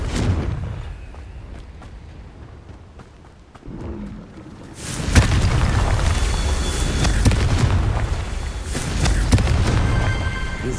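A Confringo spell explosion in Hogwarts Legacy erupts loudly midway, a heavy rumbling blast that lingers with crackling debris after a quieter stretch of soft in-game ambience.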